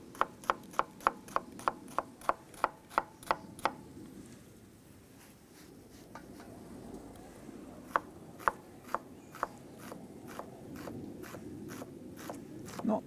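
A red onion is chopped with a knife on a board: quick, even runs of crisp taps, a short quiet gap, then slower sparse chops that speed back up again. The sound is close but soft.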